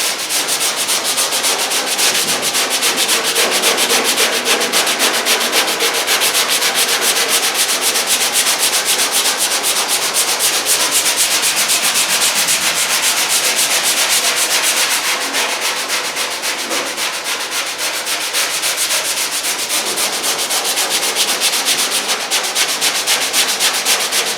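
Hand sanding on a classic Mustang car body being prepared for primer makes a continuous, close rasping rub, steady in rhythm with slight changes as the strokes shift direction.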